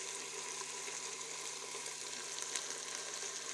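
White vinegar hits cooking daal lobia made from kidney beans, giving a steady, close, even sizzle with soft bubbling and no speech throughout.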